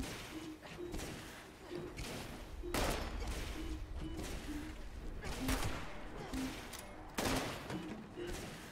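Repeated bursts of gunfire in Fallout 76 in the West Virginia wasteland, steady rapid shots over a busy, noisy background with a faint voice at times.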